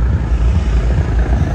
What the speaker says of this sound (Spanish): Hay un helicóptero.